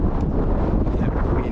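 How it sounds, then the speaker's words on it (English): Strong wind buffets the microphone aboard a small fishing boat, a steady loud roar and rumble with no break. "That wind is just great."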